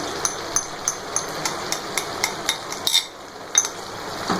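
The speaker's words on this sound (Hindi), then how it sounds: "चलें इसको भून लेते हैं।" Beef trotters with spices and yogurt being fried and stirred in a pot, a steady background sizzle broken by regular sharp clinks and scrapes of a spoon against metal, close and moderately loud with no talking.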